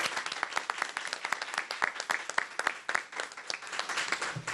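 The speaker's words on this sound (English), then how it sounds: "I would like everyone to give a round of applause to our seniors that are here today." An audience at a Medicare and Medicaid 50th anniversary gathering in a Chicago center applauds seniors, with moderately loud clapping from a modest crowd, individual claps audible within a steady, continuous round.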